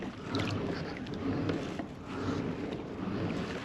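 Steady churning and splashing of a Malibu pedal-driven kayak moving through water, with light wind noise on the microphone throughout.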